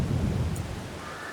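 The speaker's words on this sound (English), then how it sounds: "Hopefully the rain doesn't hang around for too long." Heavy rain and rolling thunder in Farming Simulator 22 on the Korpi map during a wet March: a dense, loud wash of rainfall with a deep rumble, and no voices.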